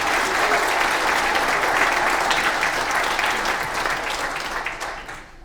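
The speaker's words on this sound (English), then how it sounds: "Can I just ask you guys to give them all a round of applause?" A crowd claps in sustained, dense applause at an election campaign launch, filling the space, then gradually tapering off near the end.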